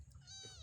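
A kitten gives a single short, high meow up close, rising then trailing off, over a faint low background hum in a home where kittens and chicks share space.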